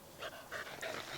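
Chewy, a dog at a horse rescue sanctuary in Tenerife, pants heavily and rhythmically at close range with a few short whiny vocal bursts, loud and breathy.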